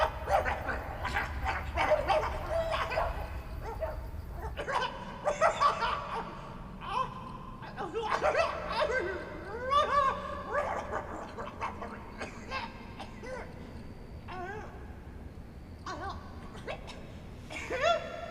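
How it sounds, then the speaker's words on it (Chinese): A dog barking at night, repeated yapping barks and whimpering yips in irregular bursts at moderate distance, with people talking and laughing in between. "啥破狗叫什么玩意儿呢？"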